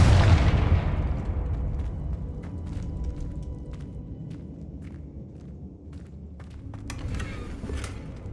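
A Confringo explosion spell goes off in Hogwarts Legacy, a loud close boom that decays into a long rumbling tail, with scattered clicks and small crackles afterward.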